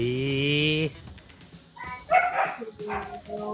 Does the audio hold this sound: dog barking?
yes